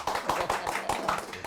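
A few people clap in a quick, steady rhythm in a Sundanese podcast studio, with close, evenly spaced claps lasting just over a second and no talk over them.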